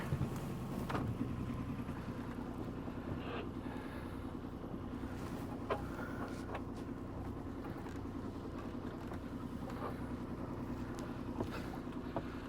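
A boat motor runs in gear as the vessel leaves its mooring on Loch Creran, a steady low drone with a rhythmic throb that holds constant throughout, with wind and faint water noise over it and a few brief knocks.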